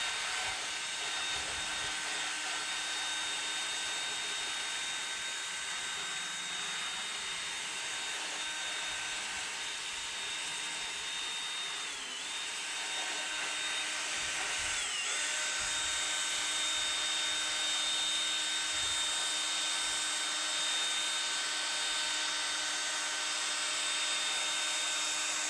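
A small sander works a spalted ash live edge wood slab, giving a continuous high-pitched whine with steady hiss, fairly faint and unbroken, with no talking.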